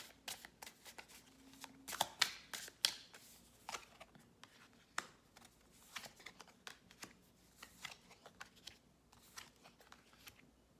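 Tarot cards being drawn and shuffled close by: quick papery riffles, slaps and flicks in an uneven rhythm, with one louder burst of shuffling early on.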